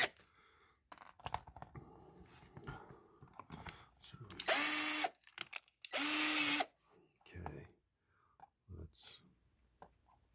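Power drill drilling out rivets on a custom Redline Charger bicycle, with two short, loud whirring bursts separated by a pause, amid quiet handling clatter and low murmured speech.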